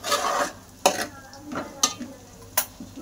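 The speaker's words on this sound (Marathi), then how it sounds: "आता शेंगदाणे टाकून घेतो." Peanuts dropped into a hot frying pan for sago khichdi, making a few sharp sizzling bursts and clatters between quieter crackling, close up with no talking.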